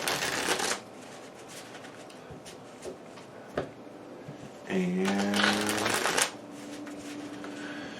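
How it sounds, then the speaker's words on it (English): Playing cards for the Onirim card game being shuffled, a short riffle at the start and a longer, louder riffle-and-bridge later, between quiet handling, with a brief spoken word. "Let's get this shuffled back up."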